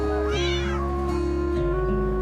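A cat lets out a single short meow over steady, sustained background music, close and clear.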